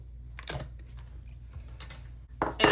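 Scissors snip excess paper from a planner sticker in a few short, crisp cuts close by, with faint rustling between them and quiet background hum.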